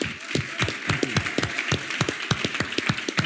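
An audience at a live event applauds with dense, steady clapping that holds at an even level throughout, and no one speaks.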